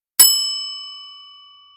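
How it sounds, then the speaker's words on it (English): A desk bell rings once to summon a clerk in an office, a single bright metallic ding that rings on with a long, clean decay. "He started forward and pressed the bell for Macy."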